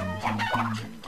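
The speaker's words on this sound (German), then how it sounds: "Weg, ihr Hühner." Chickens cluck in the video game Crash Twinsanity, a close, layered run of short throaty calls over game background sound, with no speech.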